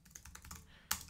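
Typing on a computer keyboard while writing in Google Docs: a short, quiet burst of soft key taps ending in one sharper, louder keystroke, close by with no voices.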